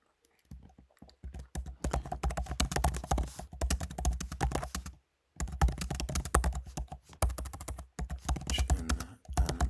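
Rapid clatter of computer keyboard typing as a prompt is entered, steady bursts of keystrokes close by, broken by a short pause midway before the typing resumes.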